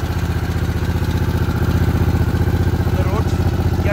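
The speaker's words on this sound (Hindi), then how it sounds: "this is the first start of the bike in Guwahati" A brand-new Harley-Davidson Sportster S idles with a steady, loud, close-up throbbing beat after its first start, while someone talks over it.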